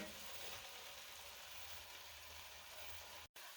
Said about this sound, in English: these are going to continue to saute probably about 5 minutes